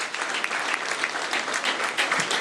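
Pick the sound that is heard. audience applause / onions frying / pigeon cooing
audience applause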